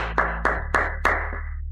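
A few guests at a luxury wedding party clap sparsely, about four distinct claps spaced across under two seconds, loud and close over a steady low hum.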